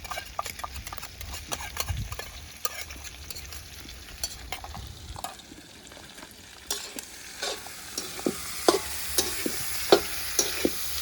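Red ginger paste frying in a pan while being stirred, a continuous close sizzle broken by repeated sharp clacks and scrapes of the spatula that grow louder toward the end.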